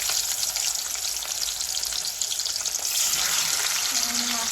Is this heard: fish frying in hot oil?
yes